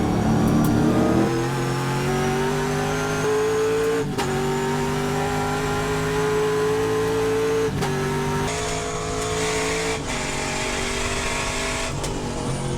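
Trans Am race cars cresting the 5 and 5A hill at Thunderhill, engines roaring and shifting through gears in rising pitch sweeps, loud and close with brief dips between upshifts and no talk.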